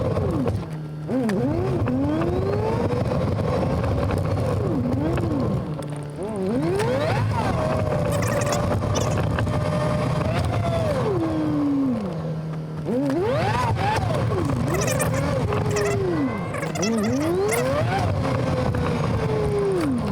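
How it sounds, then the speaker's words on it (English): A Mazdaspeed 3 drives around the block, its engine note repeatedly climbing and dropping through gear changes, heard loud and close from inside the car over steady road rumble, with no talking. "So I'm pretty much just gonna take her around the block."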